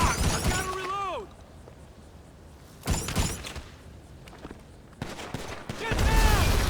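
Gunfire in GTA Online during a casino heist mission rattles in bursts, with sharp shots and debris, amid loud game sound effects and shouting voices.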